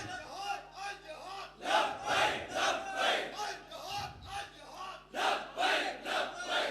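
A large crowd at a religious speech gathering chants the slogan Labbaik in loud rhythmic bursts, repeated several times with brief pauses, voices swelling together in unison.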